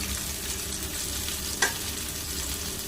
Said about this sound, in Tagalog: Okay, ito na yung isda natin guys, malapit na maluto.